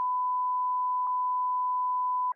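A steady censor beep tone runs unbroken for over two seconds, loud and alone, covering bleeped-out speech from a podcast conversation with only slight blips where the masked words fall.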